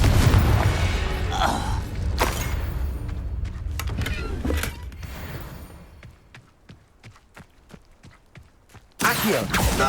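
A Confringo blasting curse explodes in the Hogwarts Legacy game with a heavy boom and rumble, followed by quieter thuds and clatter, then another loud blast near the end.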